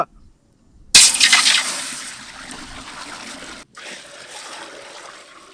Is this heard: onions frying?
no